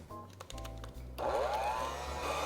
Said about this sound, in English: Now I'm gonna mix it all up with my hand mixer